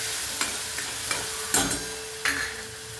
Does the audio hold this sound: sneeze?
no